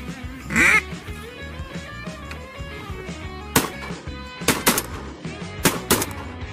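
A shotgun fired during a duck hunt gives sharp cracks late on, several loud close reports among duck and goose calls in the outdoor marsh background.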